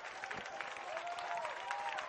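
A crowd at the 2013 CIF-Northern Section track and field finals cheers from a distance as runners come down the home stretch, a faint, sustained roar with a few thin whistle-like tones riding over it.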